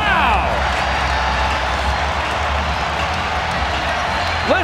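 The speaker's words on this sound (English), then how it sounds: "Listen to this crowd." Basketball arena crowd roaring and cheering after a full-court shot, a loud, sustained wall of voices and whoops with a commentator talking over it.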